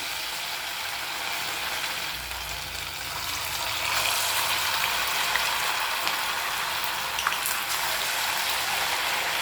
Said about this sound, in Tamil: இப்போ நம்ம ரெடி பண்ணி வச்சுருந்த வடை ஒன்று ஒன்றா போட்டு ஃப்ரை பண்ணிக்கலாம்